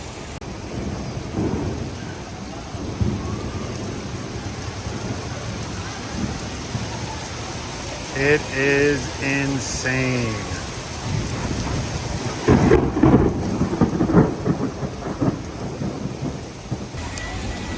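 A heavy thunderstorm with pouring rain hitting the ground and close lightning strikes, dense steady rain noise broken by loud thunder cracks and rumbles, while people talk excitedly nearby.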